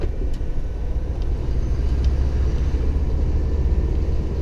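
Old Scania 143 V8 truck engine rumbling steadily while driving, a low continuous drone heard from a following vehicle, moderately loud with no talk.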